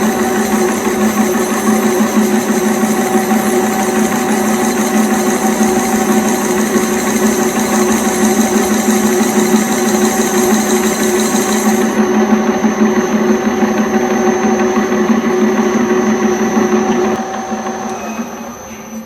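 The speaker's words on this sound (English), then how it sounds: "This is a 10 thousandths depth of cut." An Acraturn 1340 lathe takes a ten-thousandths-deep cut, a steady mechanical hum and whine running continuously, then changing tone and dropping in level near the end.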